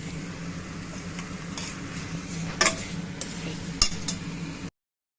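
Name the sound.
stirring tomatoes in a pan for paneer biryani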